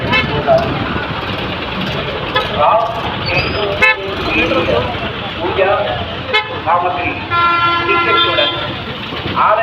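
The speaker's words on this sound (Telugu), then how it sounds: "అదిగోండి బస్సు వస్తుంది బస్సు వస్తుంది అదిగోండి తిరుపతికి" A bus pulls up at the temple gopuram stop in Srikalahasti, sounding loud repeated horn toots and a longer sustained blast near the end over engine noise and a busy crowd of voices.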